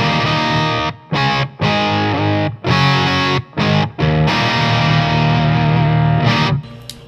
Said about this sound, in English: we're gonna go over to a crunchy sound on the amp